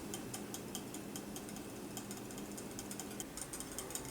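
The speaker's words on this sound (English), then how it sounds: "let's give all this a nice whisk up and incorporate these ingredients real nice" A whisk clicks and rattles rapidly in a bowl, stirring a sauce of relish and Worcestershire for an Italian-style burger, a steady close scraping rhythm with no talking.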